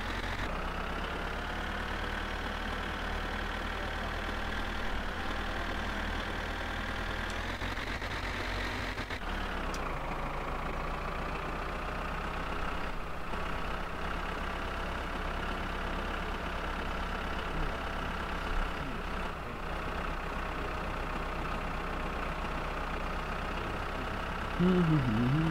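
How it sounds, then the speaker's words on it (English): A tractor engine in the video game My Summer Car drones continuously at a loud, steady idle, its pitch shifting briefly once and then holding, with no break in the sound. "this fucking tractor is just gonna be much louder than anything else"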